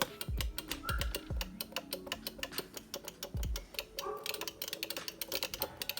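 The micro switches of a NEO GEO arcade joystick click sharply and close up in quick, irregular bursts, with a few heavier thumps as the stick is worked back and forth.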